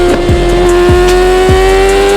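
A 2020 Yamaha R6 sport motorcycle with a full titanium exhaust runs loud and close, a steady throaty idle broken by three short, evenly spaced blips of the throttle.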